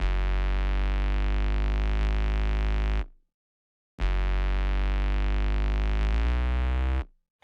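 A Zeta sub bass synth sustains a deep tone for about three seconds with its pitch sliding under automation, cuts to silence, then sounds again for another three seconds before stopping.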